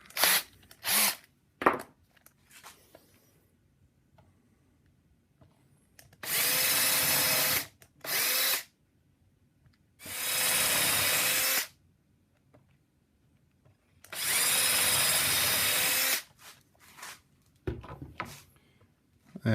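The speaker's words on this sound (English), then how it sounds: "I have those pilot holes started" A power drill bores pilot holes into wood in three sustained, loud bursts of a few seconds each, separated by silence and a few short clicks and taps, with no talking.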